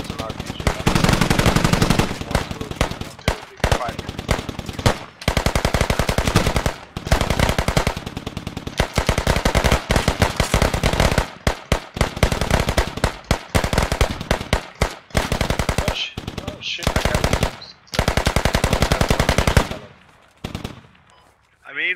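Machine gun fire in the military shooter game Squad comes as loud, rapid sustained bursts that repeat with brief pauses, close and dominant, ending in a few scattered shots.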